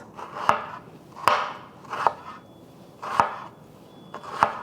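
A knife slices through a two-inch piece of ginger on a board, five distinct crisp cuts spaced roughly evenly, each a sharp knock, close and alone with no talking.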